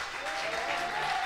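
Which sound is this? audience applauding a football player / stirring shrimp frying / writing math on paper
audience applauding a football player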